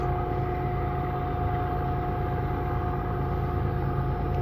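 A thin, constant high-pitched singing hum comes off a rail track used by CN and Canadian Pacific trains, holding steady above a low continuous rumble with no break.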